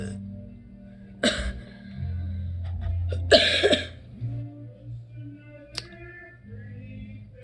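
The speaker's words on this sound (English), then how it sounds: "That was spicy, that made me cough hard." After eating a spicy teriyaki stick, a person coughs hard in two loud, close bursts, then clears their throat more quietly over a low steady hum.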